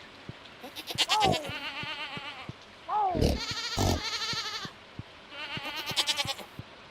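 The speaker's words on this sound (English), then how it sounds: "Machine gun goats." Goats in Stardew Valley bleat in rapid, repeated bursts, loud and close, in three clusters with short pauses between them, with no talk over them.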